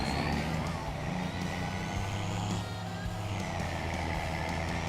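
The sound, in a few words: delivery truck driving in the video game Farming Simulator 25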